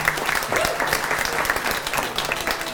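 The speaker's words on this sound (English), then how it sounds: "We should give them a round of applause for showing up and being here." An audience claps steadily in a dense, sustained round of applause, fairly close and even throughout.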